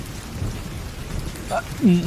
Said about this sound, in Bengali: আষাঢ় মাস, বৃষ্টি তো হবেই